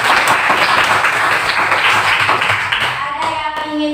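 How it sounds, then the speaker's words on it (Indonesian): A classroom group claps for a student named Irma, loud close-up applause with distinct individual hand claps that thins out and tapers off toward the end. "Aplaus dulu buat Mbak Irma"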